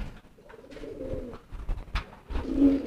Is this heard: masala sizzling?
no